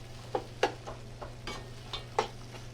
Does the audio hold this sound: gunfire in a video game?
no